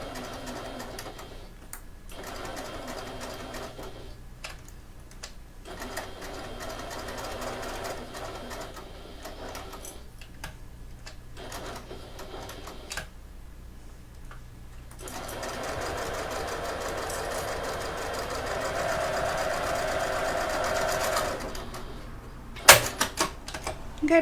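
Sewing machine stitching a wallet, sewn without a quarter-inch foot; steady rapid mechanical chatter in bursts separated by short pauses, close and moderately loud, with a faster, louder run toward the end.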